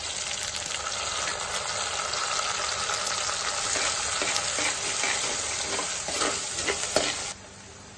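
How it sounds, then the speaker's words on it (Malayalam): Crushed shallots and garlic fry in hot oil for a Kerala prawn curry, a steady close sizzle with scraping stirs throughout, cutting off abruptly near the end. "ചെറിയ ഉള്ളി നമ്മൾ ക്രഷ് ചെയ്ത് വെച്ചിട്ടുണ്ടായിരുന്നു"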